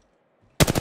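Automatic gunfire from a character in a shooter video game, a short rapid burst of loud shots that starts abruptly after half a second of near silence.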